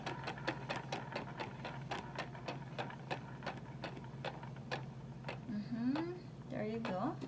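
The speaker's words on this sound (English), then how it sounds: "I have this very cool vegetable dryer or spinner" A salad spinner whirls washed bell peppers, giving a steady run of rapid, regular clicking ticks like a ratchet, fairly close, with a brief voice near the end.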